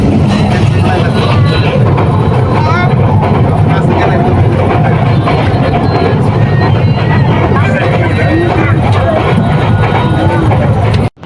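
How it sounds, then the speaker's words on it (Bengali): Inside a passenger train running from Cox's Bazar toward Dhaka, a loud steady rumble and rattle of the carriage rolling along the rails, continuous and close, with someone talking over it. "এখন ট্রেন আবার ছাড়ছে"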